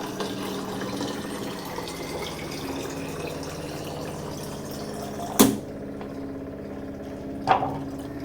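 RO filtered water pours into a bottle as a steady, moderately loud stream over a low hum, with two sharp clicks a couple of seconds apart toward the end.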